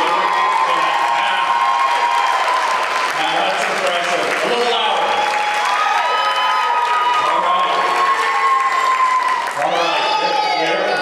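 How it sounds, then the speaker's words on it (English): A small university convocation crowd claps and cheers, with whoops and shouts swelling in waves while a man on a microphone speaks over the noise. "Can we make some noise?"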